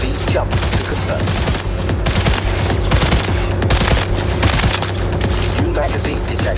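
An autonomous smart gun fires in Cyberpunk 2077, loud and sustained rapid bursts of gunfire crackling on and on, with a voice briefly under the shooting.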